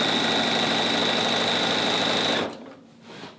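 A sewing machine runs steadily stitching quilt binding, a fast, even mechanical whirring for a couple of seconds before it stops abruptly, leaving quiet rustling.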